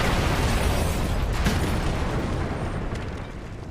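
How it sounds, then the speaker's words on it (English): A grenade explodes in the video game Splinter Cell Conviction: a loud, sustained blast that fills the whole clip and slowly decays, with no voices over it. "Look out! Grenade!"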